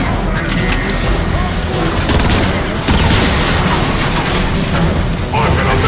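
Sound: artillery strike explosions in Transformers: Fall of Cybertron video game

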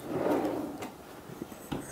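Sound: full extension drawer self-closing

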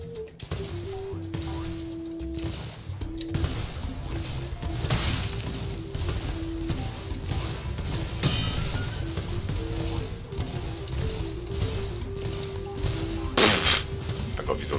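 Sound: cannon firing in the video game Spyro 3 Reignited Trilogy

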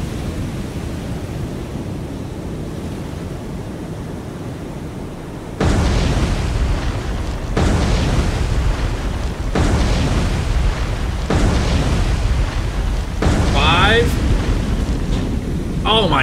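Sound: torpedoes detonating on a heavy cruiser in video game War on the Sea

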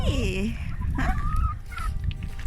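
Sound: chicken clucking

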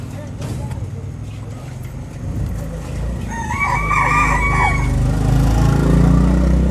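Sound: local desi chickens at a chicken cutting shop

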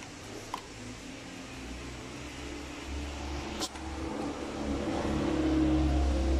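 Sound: car engine running during EGR and engine cleaning

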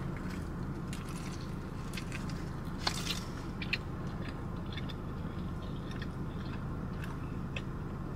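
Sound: chewing a hash brown bagel sandwich

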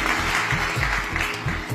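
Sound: applause

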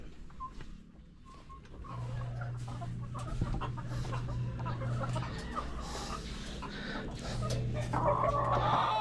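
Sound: chickens clucking inside a chicken coop

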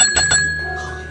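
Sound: bell being rung

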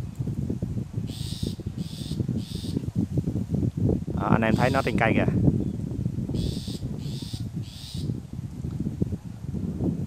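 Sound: shrike calling from a tree

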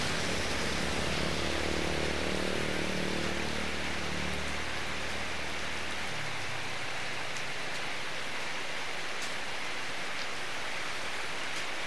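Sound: rain falling

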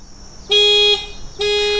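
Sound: car horn sounding via remote app

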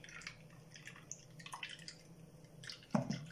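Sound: almond milk dripping through a fine strainer

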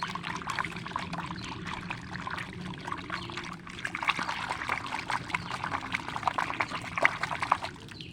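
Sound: shaking a bottle of liquid

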